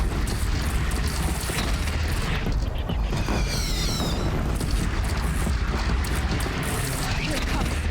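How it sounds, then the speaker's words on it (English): Oseram cannons firing in the game Horizon Zero Dawn, heavy booming blasts layered over a constant loud rumble of combat, with voices speaking over it. "now we get to play with Where do you need me? Oseram cannons. On the platform. And we just start firing."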